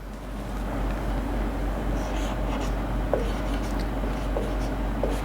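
Marker or chalk writing a physics definition on a board, a steady faint scratching under a constant low hum with a few soft taps, no voice.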